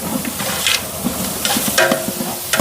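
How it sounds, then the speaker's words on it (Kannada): Masala with biryani powder sizzles loudly in a pan for village-style chicken biryani, with repeated scraping strokes of a spoon as it is stirred. "ಇವಾಗ ಮಸಾಲೆ ಚೆನ್ನಾಗಿ ಫ್ರೈ ಆಯಿತು"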